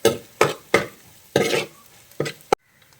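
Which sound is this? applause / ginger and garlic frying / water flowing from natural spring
ginger and garlic frying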